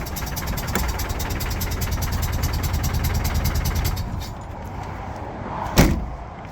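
A Land Rover Defender 300tdi diesel engine, overheated and facing cylinder head removal, idles roughly with an uneven, knocking chug that runs steadily and loudly throughout, with a sharp clunk near the end.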